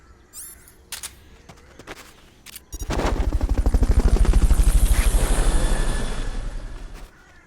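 A Fulton recovery helicopter in the video game Metal Gear Solid Peace Walker HD Edition beats its rotor in a rapid, loud thumping that swells and then fades, after a few sharp clicks.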